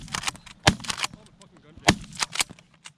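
Shotguns fire during a North Dakota goose hunt, with two loud sharp blasts standing out among several quicker reports, mixed with honking geese and a shouted voice nearby.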